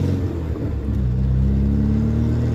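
A 1990s Ford Escort XR3 sports hatchback driving along, its engine giving a steady, loud low rumble from inside the car that settles into an even drone after a brief dip.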